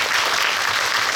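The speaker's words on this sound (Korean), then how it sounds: "다시 한번 박수 부탁드립니다" Dense, even applause from a cinema audience at a film talk event, loud and continuous with no breaks, a wash of many hands clapping together with no speech on top.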